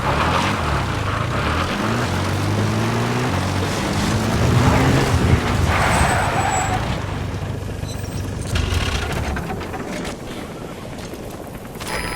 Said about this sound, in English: Yo pido un helicóptero.